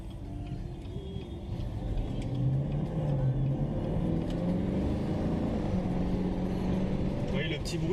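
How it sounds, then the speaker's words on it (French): A 2018 Chevrolet Camaro SS V8, 455 hp, running cold while driving, giving a steady low burbling engine drone with faint road rumble throughout. There is no speech. "C'est un V8, hein, c'est pour ça que ça chantonne un petit peu."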